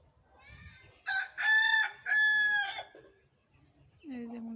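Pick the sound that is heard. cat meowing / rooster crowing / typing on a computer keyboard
rooster crowing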